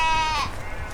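Sheep bleat in a nearby field, one wavering, drawn-out call that is close and fairly loud over a low rumble of background noise.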